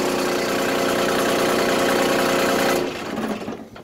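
A Mahindra Emax 25 HST compact tractor engine runs with a slightly rough, steady idle up close, then drops away and fades near the end.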